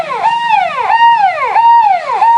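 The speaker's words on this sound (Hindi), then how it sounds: "बंद कर ये सायरन बजाना। एम्बुलेंस है।" An ambulance siren wails loud and close in a repeating rise-and-fall sweep, several full cycles back to back with nothing else heard.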